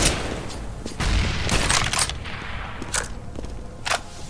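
Grenade blast and gunfire in Counter-Strike, a series of sharp shots and bursts scattered over a few seconds, some close and loud, some fainter, with no talk.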